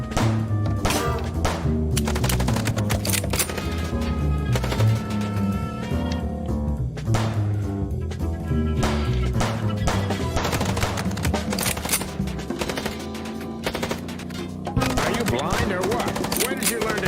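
Bursts of rapid gunfire come from the video game Chicken Police. They crack repeatedly over loud, dense music and effects throughout.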